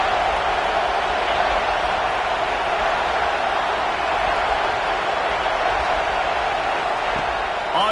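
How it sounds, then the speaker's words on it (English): A stadium crowd in a college football video game sends up a steady, dense roar that holds at an even level throughout, with no distinct voices standing out. "this crowd trying to help keep them there"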